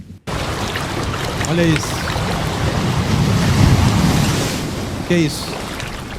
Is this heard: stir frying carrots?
no